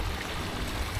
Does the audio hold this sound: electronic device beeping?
no